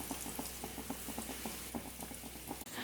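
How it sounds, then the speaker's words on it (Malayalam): Hara bhara kebabs frying in a pan give a steady low bubbling sizzle with small rhythmic pops, faint and continuous, with no voices. "ഇതിൽ നമുക്ക് ബാക്കിയുള്ള ഹരാബര കബാബും കൂടെ ഇട്ടിട്ട് ഫ്രൈ ചെയ്തെടുക്കാം."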